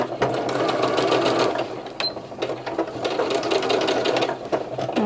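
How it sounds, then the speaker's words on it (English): Sewing machine stitching fabric with a 1/4 inch seam and back stitch, a loud close mechanical whirring and clatter that runs in bursts, briefly pausing and starting again. "So I'm just sewing a 1/4 inch, starting and stopping here at the beginning."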